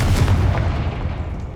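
Confringo fire spell blast in Hogwarts Legacy, a short booming burst with a heavy low-end thump that decays into a rumbling tail, heard alone.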